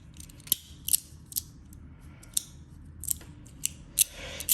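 A clicky 3D printed fidget slider gives about nine crisp, sharp clicks at close range. They come at an irregular rhythm against a quiet background.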